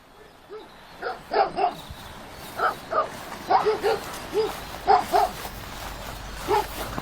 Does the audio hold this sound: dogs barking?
yes